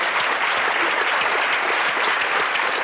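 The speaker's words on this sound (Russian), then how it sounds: "Это достойно аплодисментов." Dense, steady applause from a crowd honoring a Stanley Cup win, loud and continuous throughout with no pauses.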